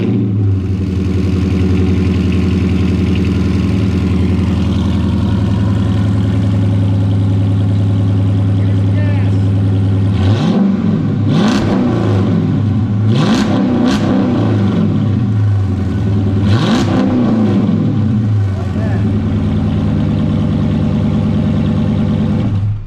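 A HEMI 5.7 V8 with the rear exhaust removed idles loud and rough up close, then several sharp revs rise and fall in the middle stretch before it drops back to a heavy idle.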